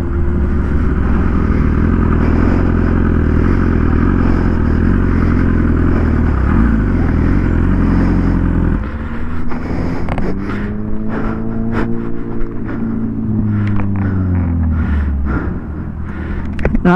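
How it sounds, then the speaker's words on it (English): Sports motorcycle, an S1K, ridden hard on a mountain road, its engine droning steadily and loudly, then shifting to rising and falling revs with wind buffeting the microphone, no voices present. "Now some good riding, Carrie."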